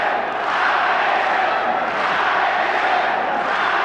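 A loud, roaring arena crowd at a Pride FC mixed martial arts fight cheers and chants in a dense, continuous wall of voices that holds steady throughout.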